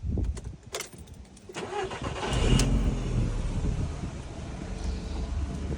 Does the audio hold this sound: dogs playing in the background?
no